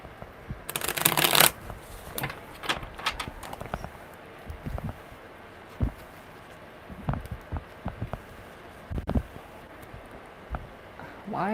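Tarot cards being shuffled by hand, a loud riffling burst followed by scattered softer shuffles and taps, close and unaccompanied by speech.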